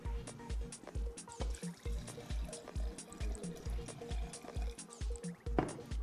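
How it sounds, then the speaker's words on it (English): Milk, about 400 ml, is poured into a mixture, a faint, rhythmic liquid glugging and dribbling heard up close and quiet, repeating in regular pulses throughout. "I am going to add in about 400 mils of milk."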